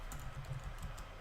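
Quick keystrokes on a computer keyboard, a short faint run of soft clicks close by with no talk.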